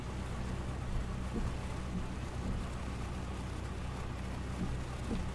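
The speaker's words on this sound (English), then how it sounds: "Just keeping the RPM a little under 1000, about 950 or so. That'll help warm up the engine." A steady, even engine drone from a simulated light aircraft idling around 950 RPM on the ground, continuous and unchanging throughout with no speech.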